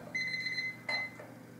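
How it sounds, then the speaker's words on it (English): A countdown timer's high-frequency alarm beeps in short bursts, loud and close, with brief gaps between the pulses. "at which point a high frequency alarm will sound."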